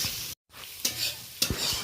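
Onions frying in a pan for shrimp bhorta, stirred with a utensil: a soft sizzle with a few sharp scraping strokes and a brief dropout, quiet and close.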